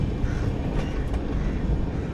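The Shirdi–Mysuru Weekly Express rumbles steadily along the track on its approach to Rayadurga station, a loud continuous low roar heard from inside the carriage.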